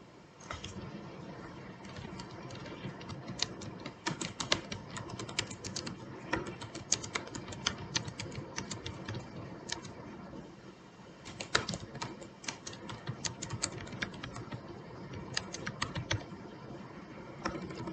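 Fingers type on a computer keyboard in quick, uneven bursts of light clicking, with a short pause partway through, recorded close over a quiet room hum.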